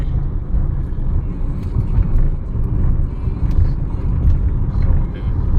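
Car driven by a daughter on a motorway for her first time: a steady, loud low rumble of engine and road noise inside the cabin, unbroken throughout.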